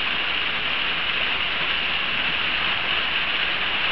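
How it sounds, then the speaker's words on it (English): A small waterfall from a newly formed spring, running off a mountainside into a creek, gives a steady, even rush of falling water, close and continuous with no talk. "I have my own little waterfall"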